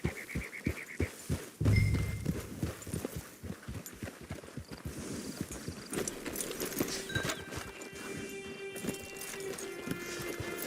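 Horse hooves clip-clop at a steady walking pace in the video game Red Dead Online, a close, regular series of soft thuds with a brief heavier thump early on and some background game sounds.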